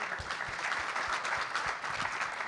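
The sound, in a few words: audience applauding the panelists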